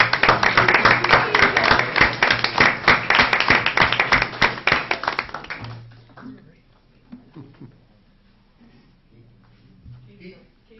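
Audience at a regular city council meeting clapping in a dense, steady burst for about six seconds, then dying away into scattered low murmurs and a faint hum.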